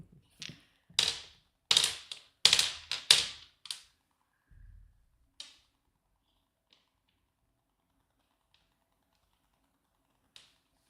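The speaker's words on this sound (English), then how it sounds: "I shuffle kind of aggressively." Playing cards are shuffled aggressively in a series of sharp, crisp riffling bursts over a few seconds, close and loud, then a couple of faint isolated taps in near silence.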